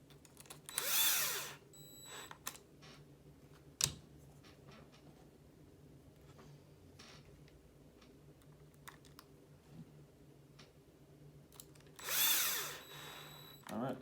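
A power driver spins screws into Team Associated B74 RC car parts in short whirring bursts near the start and again near the end, with small clicks and handling noises between them.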